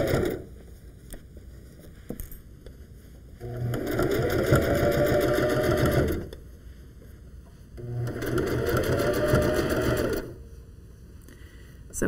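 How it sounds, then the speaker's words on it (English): A sewing machine stitches through thick felted wool sweater fabric for wool mittens in two sustained bursts of rapid, even whirring, each lasting a few seconds with quiet pauses between, close and clear. "you won't be able to get all that under your sewing machine"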